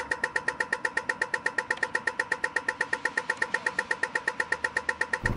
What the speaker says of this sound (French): Ça, c'est le bruit des feux de signalisation à Sydney, en Australie.